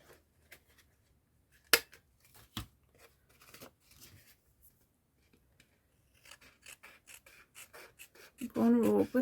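Scissors snip through paper in scattered short cuts and rustles while making ephemera, faint and close, separated by quiet pauses, with a voice briefly speaking at the end.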